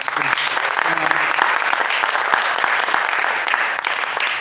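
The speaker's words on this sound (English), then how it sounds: "Can we give a round of applause to Coach Boom and Amania?" An audience breaks into applause after a call for a round of applause for two guests at a live community event, dense, close clapping that holds steady throughout with some faint voices mixed in.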